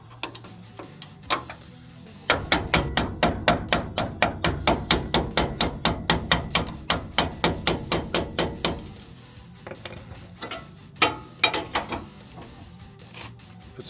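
Rapid, regular hammer taps knock a front suspension bolt out of a Toyota Tundra, dozens of sharp close metallic strikes in a steady run, with a few scattered taps before and after.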